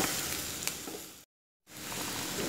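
Chopped onions sizzle steadily in a pan while cooking for a carrot poriyal, a loud continuous frying hiss that drops out completely for a brief moment before resuming.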